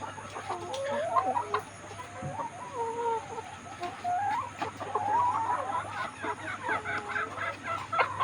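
Laying hens, two of them unable to stand upright, cluck and murmur in a steady, overlapping chatter close by, with a low constant hum underneath.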